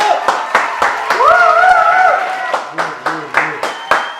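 Sharp hand claps repeat in a steady, even rhythm as an on-camera guest named Cihat is welcomed in at home, with a voice carrying along over the clapping throughout.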